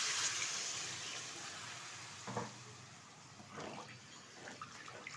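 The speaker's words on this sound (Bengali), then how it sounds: "এখন এর মধ্যে দিয়ে দেবো পরিমাণ মতো জল।" Water poured into a hot pan of winter vegetables and bori for shukto, giving a soft, steady hiss and sizzle with a couple of brief louder splashes, fairly quiet throughout.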